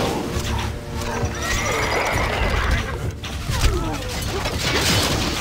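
A horse neighs in the game Stronghold Crusader HD amid a busy soundscape of hooves, clanking gear and rumbling effects, with whinnies rising over the constant dense noise.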